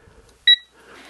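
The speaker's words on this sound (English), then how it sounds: "you hear the beep" A Quinn digital torque adapter gives a single short, clear electronic beep as it is switched on, with near silence before and faint handling noise after.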